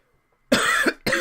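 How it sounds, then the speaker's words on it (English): A commentator's coughing fit: two harsh, close coughs in quick succession, the first longer, breaking a moment of silence. "I got a coughing attack, and I'm so sorry for that."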